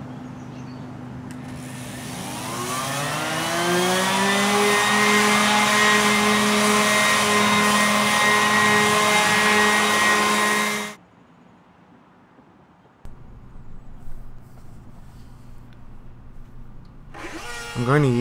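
A power sander runs on wooden pantry shelf boards, a loud steady whine that spins up and holds for about ten seconds before cutting off, followed by quieter handling noise.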